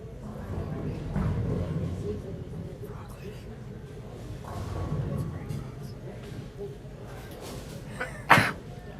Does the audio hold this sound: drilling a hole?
no